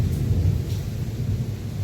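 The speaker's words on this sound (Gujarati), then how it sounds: "વીજળીનો કડાકો થયો છે જોરદાર" A heavy, deep rumble of thunder from a lightning strike rolls continuously, loud and close, with heavy rain hissing faintly in the background in Mahuva, Gujarat.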